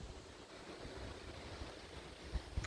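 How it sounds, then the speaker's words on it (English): Strong wind buffets the microphone on a New Forest walk between Fox Hill and Ashurst Campsite, a steady loud rushing roar with low gusty thumps that swell near the end, no voices. "Sorry if it's really windy, guys, but it is what it is"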